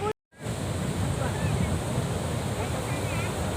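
Waves and wind wash continuously across a beach, a broad, steady roar of surf with gusty buffeting on the microphone, and faint voices of people in the background.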